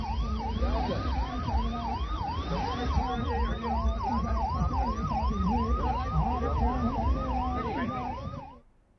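Multiple ambulance sirens wail in a steady repeating up-and-down pattern as nine ambulances are flagged off at a public event in Chhattisgarh, loud and continuous over vehicle rumble before fading out at the end.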